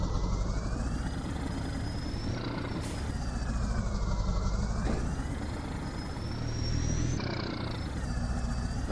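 A 1938 Mercedes-Benz truck in Farming Simulator 22 spinning its wheels, a loud continuous engine drone with a low rumble and whining tones that rise and fall in long sweeps.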